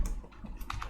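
Keys clatter on a computer keyboard while someone types text into a document, a quick run of close, light clicks with uneven rhythm and no talking.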